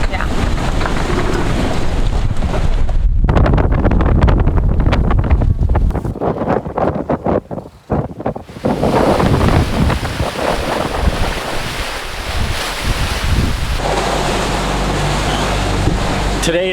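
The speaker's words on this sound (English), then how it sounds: "rough seas, a lot of wind" Gale-force wind and rough seas aboard a sailboat with its sail fully reefed: a loud, constant roar of wind buffeting the microphone over crashing, washing waves, with a brief lull partway through before the blast returns.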